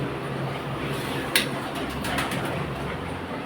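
Low, soft cooing of pigeons nesting in baskets murmurs steadily through a noisy background, with a brief flutter or knock partway through.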